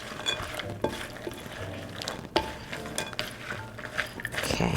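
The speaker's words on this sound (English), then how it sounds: "Then just gonna give them a stir." Nuts being stirred in a bowl to coat them in 5-spice powder, with rattling, clattering scrapes and an occasional sharper clink, close and steady, no speech.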